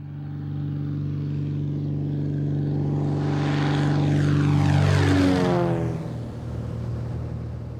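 A sheriff's small propeller airplane flies overhead, its engine drone swelling as it nears, peaking loudly, then falling in pitch and fading as it passes.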